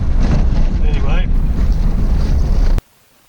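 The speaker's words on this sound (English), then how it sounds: "It's so windy out there, even the flies have gone." Strong wind buffets the microphone outdoors on an Australian road trip, a loud continuous roar that cuts off abruptly near the end.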